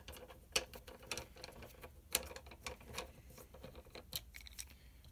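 Small clicks and scratchy ticks from unscrewing the two short screws while taking apart an Xbox One wireless controller, quiet and close, with irregular sharp taps and faint ratcheting scrapes.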